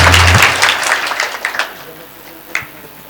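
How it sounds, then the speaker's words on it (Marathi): An audience at a Marathi kirtan gathering claps for the sound system operator, a loud burst of applause that quickly thins into scattered claps and dies away, with a voice briefly audible at the start. "एकदाच त्याच्यासाठी टाळ्या वाजवा"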